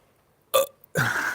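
A single short burp, followed by a longer throaty second burst, close and clear against near silence.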